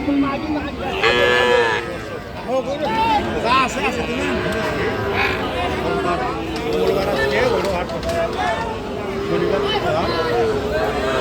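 Young heifer and bull calves at a cattle market at Aftabganj haat give occasional moos amid steady crowd chatter, with people talking close by throughout.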